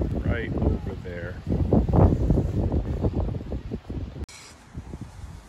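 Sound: wind blowing outdoors on a rainy day

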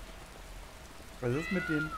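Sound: cats meowing in the video game Skyrim

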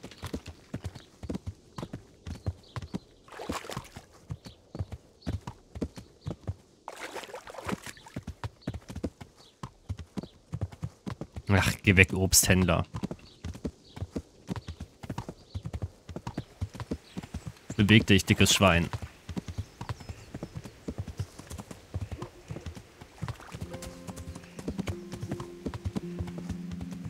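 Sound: horse hooves while riding, from video game Kingdom Come Deliverance

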